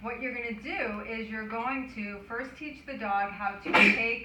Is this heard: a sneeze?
yes